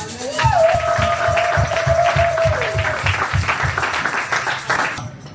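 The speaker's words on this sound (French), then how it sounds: "Acclamons pour Jésus." A church congregation applauding together in a rhythmic, steady clapping that fills the room, with a sustained voice or tone over the beat near the start.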